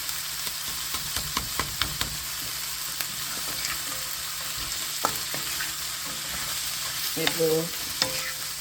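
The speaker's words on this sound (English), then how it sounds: "I'm going to add my spinach, the frozen spinach, nothing fancy, and give it a good toss." Frozen spinach tossed into a pan of sautéed onions, with a steady sizzle and frying crackle plus scattered clinks and scrapes of stirring, close and moderately loud; a voice speaks briefly near the end.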